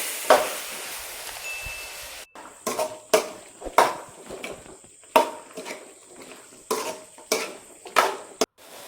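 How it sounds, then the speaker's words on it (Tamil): Cubed bottle gourd stirred in a frying pan, a spoon scraping and knocking the pan in repeated strokes over a light sizzle, close and fairly loud. "சுரைக்காய் போட்டு நல்லா மிக்ஸ் பண்ணிக்கோங்க"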